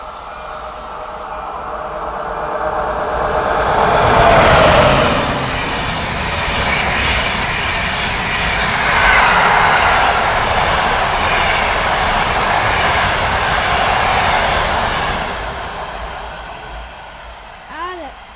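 A passenger train passes at a forest edge, its rumbling roar swelling and fading over several seconds with a rushing wash of wheels, while people chat nearby.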